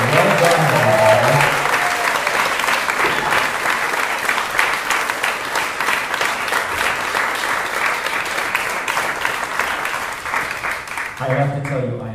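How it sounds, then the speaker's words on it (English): An in-person church audience at a barn celebration music event gives sustained, loud applause that fills the space. A voice speaks briefly at the start and again as the clapping fades at the end. "We'll give you some applause in person"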